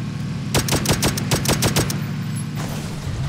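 Gunfire in the video game PUBG: a quick burst of about eight sharp, evenly spaced automatic shots over a steady engine-like hum, then the firing stops and the drone continues.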